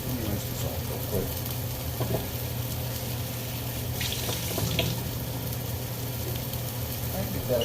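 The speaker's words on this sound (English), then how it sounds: "Let me rinse this off real quick." Kitchen tap running steadily into a big deep bowl as it is rinsed, a continuous close splashing hiss with occasional clinks and shifts of the water stream.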